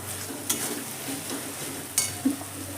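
Ground spice masala sautéing in oil for a masala chicken liver and gizzard fry, a soft steady sizzle with a few spatula clicks and scrapes, close by and unaccompanied by speech.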